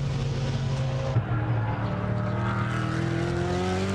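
GT1 race cars, an Audi and a BMW, racing on the Slovakia circuit during a championship race, with steady loud engine drone and rising gear tones throughout, a brief burst near the middle, under a mostly quiet commentary bed.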